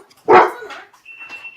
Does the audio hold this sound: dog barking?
yes